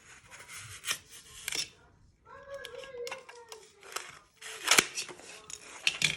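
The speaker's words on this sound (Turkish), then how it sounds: "Sonra düzgün bir şekilde falçatam ile bunu böyle kesiyorum." A utility knife cutting through styrofoam: close, uneven scraping strokes with squeaky, creaking drags in between and short pauses.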